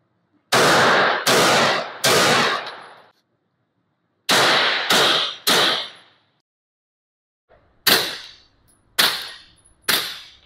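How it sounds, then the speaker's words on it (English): Unsuppressed pistol shots fired as control shots for comparison with a Rugged Obsidian 9 suppressor: nine loud, sharp reports in three groups of three, each followed by a short ringing decay and silence. "I tried to do a couple of I guess control shots with no suppressor silencer on here to kind of give you a difference."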